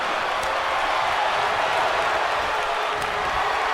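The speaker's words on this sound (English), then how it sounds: "Listen to this crowd." The arena crowd in the WWE 2K25 wrestling video game keeps up a steady, dense roar of cheering and applause that holds at one level throughout, with a few faint claps standing out.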